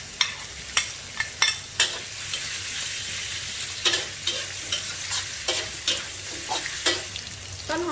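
Strips of fish stir-fried in a pan with carrot and scallion flowers, a steady sizzle broken by sharp spatula scrapes and clanks, close and fairly loud, with no voices.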